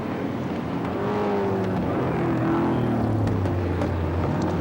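Touring cars from 1977 race along Pitt Straight at Sandown circuit, their engines droning and rising in pitch as they pass at a moderate distance, steady and unbroken with no voices.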